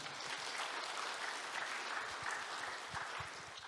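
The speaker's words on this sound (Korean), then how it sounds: "이 발표하고 이렇게 박수가 많이 나오는 거 저 처음인데요" Audience applause at an academic session of a peace conference after a presentation ends. Many hands clap together in a continuous, even wash, heard faintly at a distance.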